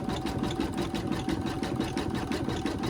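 A sewing machine stitches with a fresh needle fitted, a quiet, continuous rapid chatter of needle strokes that holds steady and even throughout, with no talking.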